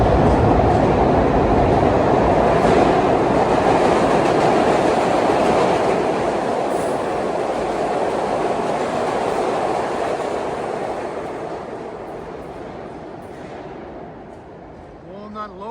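A Broad Street Subway express train in Philadelphia roars past underground, a loud, steady rumble with rattling wheels and clatter that slowly fades as it moves away.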